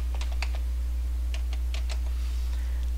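Keys clatter on a computer keyboard as a word is typed into the Garzanti online dictionary search, a few scattered clusters of crisp close clicks over a steady low hum.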